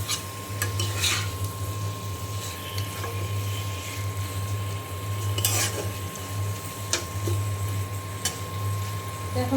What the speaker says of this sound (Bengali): এখন মশলার সাথে খুব ভালো করে আমি কষিয়ে নেব